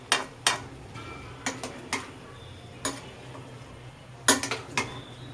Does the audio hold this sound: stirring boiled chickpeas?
yes